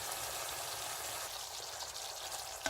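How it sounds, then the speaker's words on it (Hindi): Mild chili sauce poured from a spoon into a hot pan for Chicken Manchurian, heard as a soft, steady liquid hiss and trickle that holds at an even level with no voices. "चिली सॉस मिर्चों वाला डालेंगे।"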